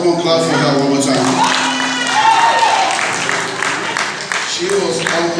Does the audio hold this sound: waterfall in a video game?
no